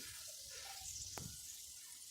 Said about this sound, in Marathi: गरम गरम जे हे तेल आहे हे फोडणी आहे मसाल्यावर घालून घ्यायची